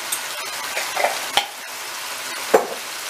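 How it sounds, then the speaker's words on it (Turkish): Mushroom chicken stir-fry being stirred in a pan after spices and thyme go in, giving a soft continuous sizzle with a few sharp scrapes and clinks of a utensil against the pan, close and with no talking. "Şöyle bir güzel karıştıralım."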